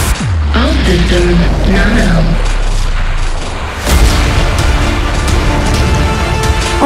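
EX missile explosions in the Survivor.io video game, with a continuous loud, dense barrage of booming blasts and game effects filling the whole stretch, partly under a synthetic announcer voice.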